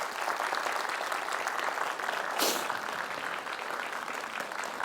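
Audience applause at a parenting talk concert in Gwangju as a pediatrics professor is introduced, an even, continuous crowd clapping at moderate level throughout, with no talking.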